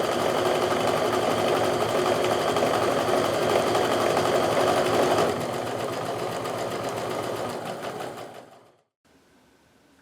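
A sewing machine stitches quilt fabric for a kaleidoscope block along a drawn line. It runs as a steady, close, rapid mechanical hum for about eight seconds, then stops abruptly to near silence.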